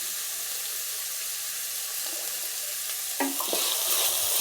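Shredded cabbage is stir-fried in a hot pan for fried rice, making a steady sizzle with stirring scrapes that grow louder and busier toward the end.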